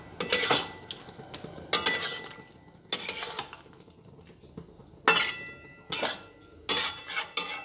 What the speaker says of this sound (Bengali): এরপরে কাসুন্দিটা পুরো বেগুনের মধ্যে মিশিয়ে দিচ্ছি।